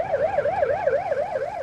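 Emergency vehicle sirens wail on a crowded street after a Halloween crowd crush in Seoul, a loud rising and falling tone that cycles quickly and steadily with no talk over it.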